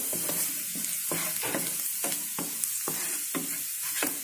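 A spoon stirs a sizzling curry seasoned with a quarter teaspoon of garam masala, making regular scraping strokes about twice a second over a constant frying hiss.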